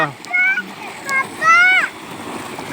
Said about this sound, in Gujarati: બોરનું પાણી આવે છે